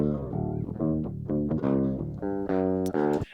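An 8-string guitar in a clean tone sounds a short series of ringing chords and notes, close and clear, with bright sustained harmonics and no talking.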